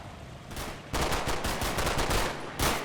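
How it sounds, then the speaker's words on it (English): Bursts of machine-gun fire from a Second World War battle at Verrières Ridge, a short spurt followed by a longer rapid rattling volley and a final burst, fairly loud and close with no talking. "Let's get that machine gun deployed."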